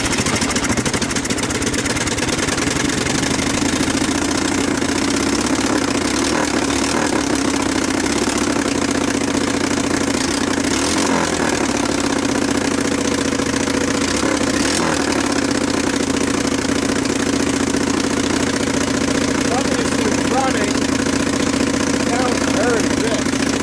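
A Suzuki Quadrunner ATV engine, mouse damaged and unused for years, runs steadily at a loud, even idle throughout, close by, with a voice talking over it.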